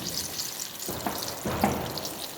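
Suiyam sweet dumplings deep frying in oil, a dense continuous sizzle with two brief swells of bubbling, close and steady throughout.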